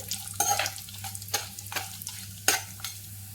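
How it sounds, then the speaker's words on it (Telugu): Cashew nuts fry in a pan of hot oil for methi matar pulav, a soft sizzle running under repeated stirring scrapes and light clinks of a spoon against the pan. "జీడిపప్పు కూడా వేసి వేయించుదామండి."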